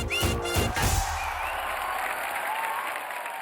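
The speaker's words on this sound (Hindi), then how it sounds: "जोरदार तालियां हो जाए हमारे सुरों के सरताजों के लिए।" Audience applause for singers on an Indian TV talent show, a loud burst of clapping at the start that settles into softer sustained applause.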